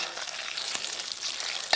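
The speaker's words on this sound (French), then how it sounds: "à remuer mes carottes et les faire chanter" Carrots sizzle in a hot pan while a spatula stirs them, a constant close frying hiss broken by light scraping taps and one sharper knock near the end.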